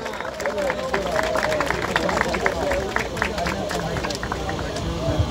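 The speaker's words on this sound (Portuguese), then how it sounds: "Palmas e palmas," A dense crowd at a Brazilian rap battle, Batalha da Leste, claps and cheers in a steady roar of applause and hubbub that holds at a constant level for the whole stretch.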